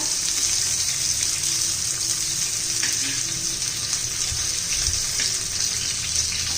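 Coriander vadis (kothimbir vadi) fry in hot oil and are flipped over, giving a loud, continuous, even sizzle with a faint soft bump partway through, close by.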